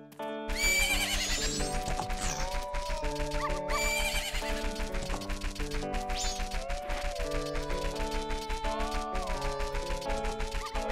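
A horse whinnies loudly twice in The Legend of Zelda: Majora's Mask, each neigh rising and shaking, over a continuous clip-clop of hooves and in-game music with steady rhythmic beats.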